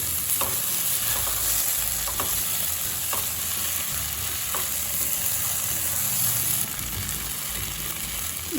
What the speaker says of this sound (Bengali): ধনে পাতাটাও খুব ভালো করে মিশিয়ে দেবো